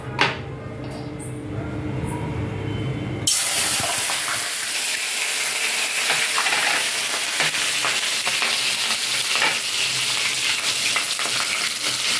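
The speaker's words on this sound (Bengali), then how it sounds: "পেঁয়াজ কুচিটা দিয়ে দিই, তেলটা হয়ে গেছে তো" Chopped onion drops into hot oil in a home kitchen and a loud, close, steady sizzle of frying takes over, continuing without a break through the rest of the sound.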